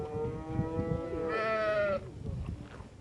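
Akkaraman sheep bleat close by, one drawn-out wavering bleat rising over a background of shuffling farmyard noise and low murmurs.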